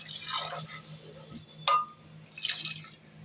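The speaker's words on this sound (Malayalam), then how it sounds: "ഇത് വെള്ളം ഒഴിച്ച് നമുക്ക് വേവിക്കാം." Water is poured into a pressure cooker holding chickpeas with turmeric and salt, giving a few short splashes and drips, with a brief sharp clink from the vessel midway.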